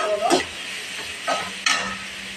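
Onions sauté in a pan for soya chunk kurma, with a steady soft sizzle under three distinct scraping stirs of a spoon against the pan, close and moderately loud.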